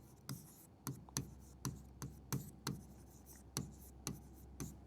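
A pen or chalk writes on a board in a classroom lesson, making a steady run of quiet taps and short strokes at a regular, brisk rhythm, faint and close, with no talking.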